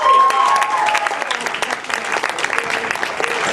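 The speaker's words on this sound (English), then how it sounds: "Give these guys a round of applause" Crowd at a grad night hypnosis show applauding, dense and loud clapping sustained throughout, with faint voices mixed in.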